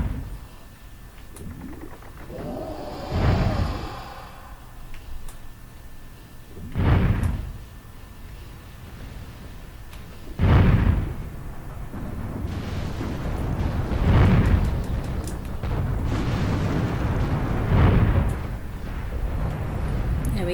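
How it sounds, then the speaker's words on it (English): Fortress cannons firing on a ship in the pirate adventure game Pirates: The Legend of Black Kat, five heavy booming explosions spaced a few seconds apart, each with a rumbling tail, against steady ambient noise. "So the fortress will start shooting at the ship."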